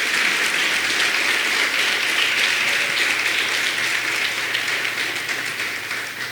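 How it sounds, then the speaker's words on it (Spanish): A church congregation applauds steadily throughout, a dense, even wash of many hands clapping that holds strong before easing slightly toward the end, with no talk over it. "aplaude si le va a aplaudir"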